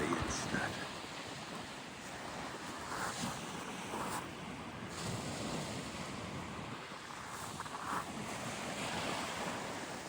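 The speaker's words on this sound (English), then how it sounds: "Let's have a look at the sea instead." North Sea waves wash onto a Norfolk shingle beach, a soft, steady surf roar with gentle swells and light wind buffeting the microphone.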